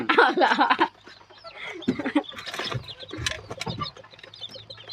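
Bantam chickens cluck close by in short bursts during morning feeding, with some louder calls at the start and quieter clucking afterward.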